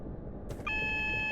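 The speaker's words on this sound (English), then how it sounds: "Which is probably what that alarm's for" A cab warning alarm in a Class 378 train in Train Simulator 2016 starts partway through as a steady, pulsing electronic tone over low engine rumble, alone and fairly loud.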